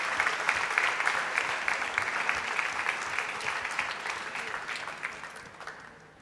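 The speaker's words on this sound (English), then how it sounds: "A big round of applause to all the students." A large audience at a school valedictory function claps steadily and densely, sustained applause that gradually fades toward the end.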